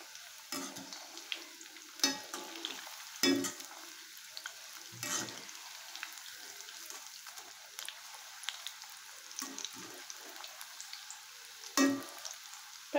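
Cauliflower pakoda deep frying in hot oil, a steady close crackling sizzle broken by several louder scraping stir bursts, with no voices.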